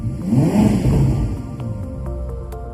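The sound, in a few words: Ferrari SF90 Spider engine starting and revving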